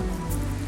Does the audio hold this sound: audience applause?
no